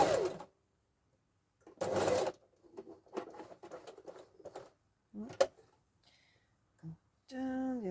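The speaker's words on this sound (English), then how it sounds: "just sewing the pocket fabric" A sewing machine stitches pocket fabric for a letterbox pocket in short bursts separated by quiet pauses, with faint handling and fabric sounds in between.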